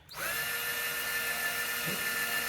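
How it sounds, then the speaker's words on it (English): A power drill boring through drywall into a wood stud in a garage, a steady high whine that starts abruptly and holds for over two seconds, close and fairly quiet, with a slight dip in tone as it meets resistance. "since we're going to be drilling into a wood stud, you're going to have some resistance because the initial part's going to be drywall"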